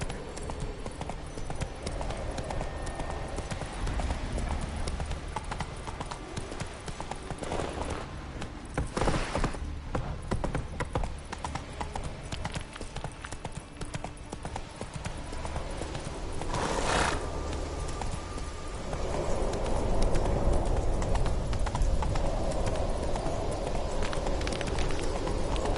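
Horse hooves pound at a gallop in the video game Witcher 3, a continuous rapid thudding rhythm with occasional whinnies, growing somewhat louder toward the end.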